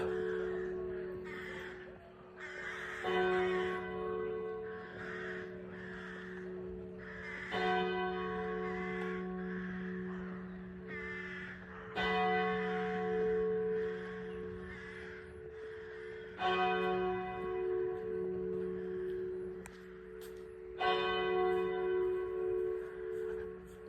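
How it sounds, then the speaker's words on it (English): A church clock in a bell tower holding eight bells strikes seven, the slow, ringing, resonant tolls spaced several seconds apart with long decays, heard from nearby in a quiet setting. "Clock strikes 7 there."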